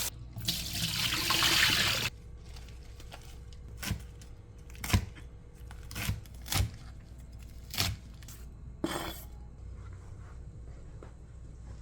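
Water runs from a tap in a loud hissing burst for about two seconds, then stops, followed by several sharp clunks and knocks.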